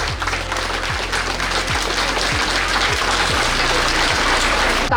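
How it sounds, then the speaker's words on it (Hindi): A dense, steady wash of loud audience applause at a National Teachers' Award ceremony continues without a break, with a repeating low hum beneath the clapping. "बहुत जोरदार तालियां और उत्साह।"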